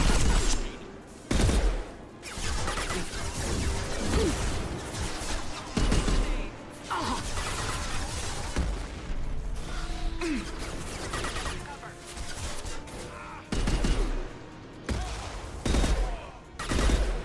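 Rapid bursts of gunfire from the Mass Effect 2 video game crackle in repeated volleys, with loud sharp shots broken by brief pauses and a voice speaking in between.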